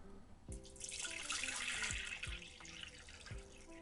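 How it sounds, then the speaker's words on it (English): Distilled water pours into an ultrasonic cleaner tank about 5 inches deep, a bright splashing rush that builds, then trails off into drips and small plinks as the flow eases. "So first we will add our distilled water."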